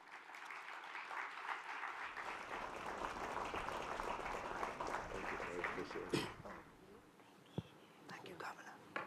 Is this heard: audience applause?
yes